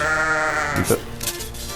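A human voice imitates a sheep's bleat, a wavering nasal baa with a shaky tremolo lasting about a second, followed by brief noisy handling sounds.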